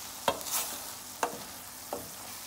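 Soya chunks cooking in a pan for chow mein give a faint sizzle, broken by a few sharp, spaced clacks of a spatula against the pan.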